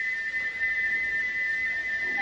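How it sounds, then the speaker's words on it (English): Gordon the engine's steam whistle, stuck open and blowing without a break. It is one steady, shrill, high tone that holds at the same pitch the whole time. "he wouldn't stop whistling until two fitters climbed up and knocked his whistle valve in place"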